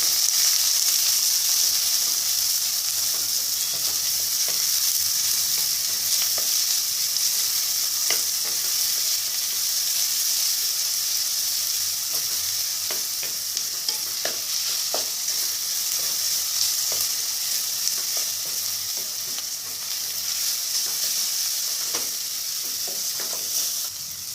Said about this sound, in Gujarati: જે ડુંગળી કાપીને રાખી છે એ ઉમેરી દઈએ આને થોડી વાર આપણે શેકીશું